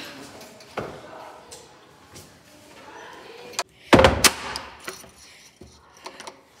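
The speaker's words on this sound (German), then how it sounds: "Ich muss die Tür zusperren." A door in a house is shut with a loud, close slam and rattling latch clatter, followed by smaller clicks and knocks of the lock, with quiet movement noises before and after.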